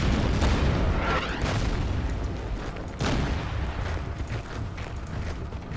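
Artillery and anti-aircraft guns in the strategy game Order of Battle: Sandstorm, heard as a steady rumble of deep, repeated booms and blasts with a stronger hit at about three seconds, continuous and without talk.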